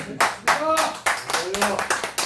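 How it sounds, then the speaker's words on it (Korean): At a press conference on a suspension of sentence for former President Park Geun-hye, a small audience claps in a brief, fairly close burst of distinct, uneven hand claps, with voices mixed in. "박수."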